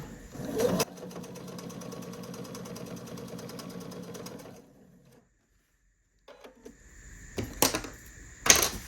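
A sewing machine stitches down the corner of a quilted picnic placemat's binding in a steady, close whirring run of several seconds, stops into near silence, then restarts in shorter bursts.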